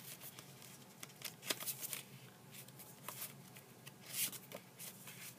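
Project Life scrapbooking cards are flipped through quickly by hand, giving a soft, continuous papery riffle with small flicks and patters, close but faint, with no voices.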